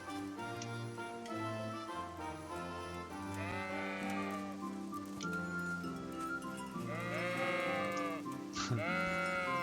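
Sheep in a medieval village in the video game Kingdom Come: Deliverance bleat repeatedly, several wavering, overlapping calls rising over ambient game music and background sound.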